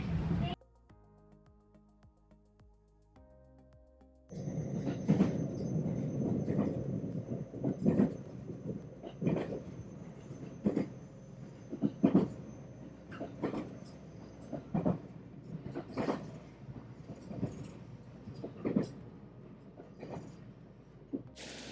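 A train ride toward Okunoshima, Japan: after a quiet start, a rolling rumble of the railcar sets in, with repeated clicks and clacks from the track and occasional knocks over a constant hum.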